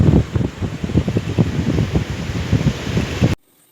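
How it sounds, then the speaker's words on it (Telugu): Strong wind buffets the microphone in continuous gusty rumbles, loud and close, cutting off abruptly at the end. "గట్టిగా వేసేస్తుంది గాలి"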